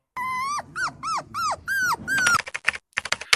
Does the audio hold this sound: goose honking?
no